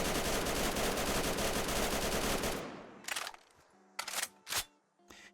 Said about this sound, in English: And that one is going to be the quick reload